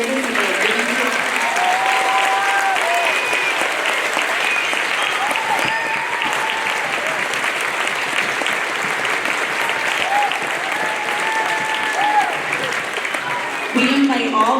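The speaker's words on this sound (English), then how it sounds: "Let's give one last round of applause for our veterans and the service that they have given to us." An audience in a school gym at a Veterans Day celebration gives sustained applause honoring veterans, a full, steady wash of clapping lasting the whole stretch, with brief whistles and cheers rising through it.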